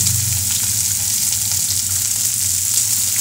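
Sliced onions frying in oil with cumin seeds, a loud close continuous sizzle with a low steady hum beneath and no talking.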